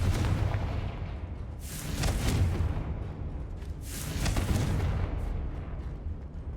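Spell explosions from Hogwarts Legacy, two broad booming blasts a couple of seconds apart, each swelling and rumbling into a sustained roar over a heavy low-end game backdrop.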